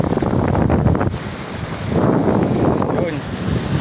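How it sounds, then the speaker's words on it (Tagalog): Strong sea waves surge and wind buffets the microphone aboard a small fishing boat out at sea, a steady loud roar that swells twice without easing. "Ang lakas ng alon."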